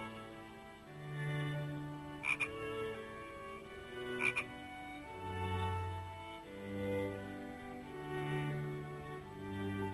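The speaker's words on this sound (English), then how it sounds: "A green frog." A frog croaks in a series of deep, resonant calls repeating every second or two over about ten seconds, with a couple of sharp clicks in between and no speech.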